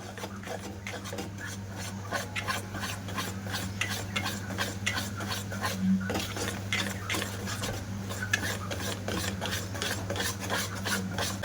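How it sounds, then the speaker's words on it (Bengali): Basbousa cake batter being stirred after baking soda and baking powder go in, a rapid rhythmic scraping and rasping of a spoon against a bowl over a low steady hum, continuing throughout without talk. "হাফ চামচেরও কম বেকিং সোডা দিয়ে দিলাম ভালো করে মিশিয়ে নেব"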